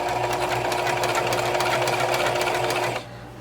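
A sewing machine stitches steadily at a fast, even rhythm, running close and loud for about three seconds before stopping abruptly.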